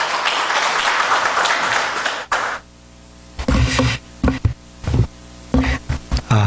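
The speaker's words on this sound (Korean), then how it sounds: "우리 목사님 나오실 때 뜨겁게 박수로 환영하겠습니다." A church congregation claps to welcome a pastor to the pulpit, a broad burst of applause for about two seconds that cuts off, followed by scattered knocks and handling thumps in a quiet room.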